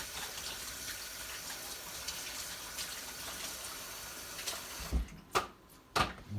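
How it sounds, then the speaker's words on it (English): A kitchen tap runs steadily while hands are rinsed under it, then shuts off near the end, leaving a few close knocks and clunks. "Let me rinse my hands off."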